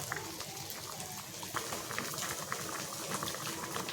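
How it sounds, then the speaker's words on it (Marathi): Soft, steady bubbling of a pot of fish curry at a rolling boil, a quiet continuous gurgle with little pops throughout. "मस्त उकळ यायला लागलेली आहे"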